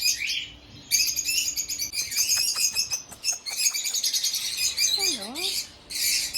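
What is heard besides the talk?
lovebirds chirping in aviary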